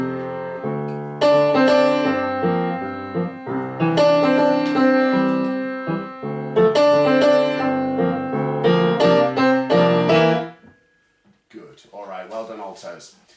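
Altos of a community choir sing a sustained melodic passage in unison, loud and near, in several phrases before it stops, followed by a brief spoken voice.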